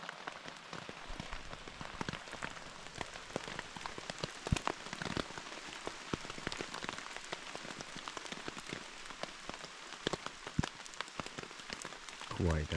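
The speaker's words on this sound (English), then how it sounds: "It's raining a bit, not too bad." Light rain patters steadily on surfaces at a campsite along a canyon trail near Mostar, Bosnia and Herzegovina, a soft dense crackle of drops with occasional louder taps throughout.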